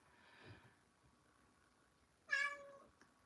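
A house cat gives a faint meow, then a clearer, louder meow a moment later, in a quiet room with a low background hum.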